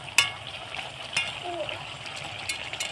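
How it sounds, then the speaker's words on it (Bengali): Kalai fish cooking with spices, potato, broccoli and onion greens in a pan, a steady soft sizzle of frying with a few sharp scrapes and taps of a spoon stirring, close and moderately loud. "দিয়ে আবারও একটু নাড়িয়ে দিয়ে আরও আমি 5 মিনিট রান্না করে নেব"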